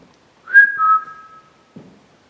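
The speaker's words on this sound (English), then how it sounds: "Whistle." A single clear whistle from a person, rising briefly then holding a steady tone for about a second, alone in an otherwise quiet room of a Gothic mansion at night, followed by a faint soft sound.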